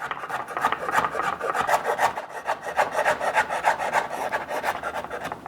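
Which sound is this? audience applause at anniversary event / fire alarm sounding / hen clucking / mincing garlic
mincing garlic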